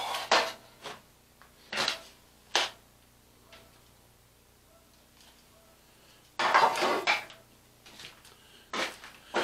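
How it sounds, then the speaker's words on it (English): A sliver of wood stirs a mixture in a container, giving a few short scraping knocks near the start, a quiet stretch, then a denser scraping burst and more light taps, close and fairly quiet with no talking. "I'll just take a little sliver of wood and stir those together."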